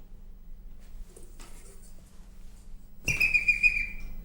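A small whistle on a clown's thermosiphon helmet gives a sudden sharp, bright tone that wavers slightly for about a second, following quiet rustling and faint handling noises.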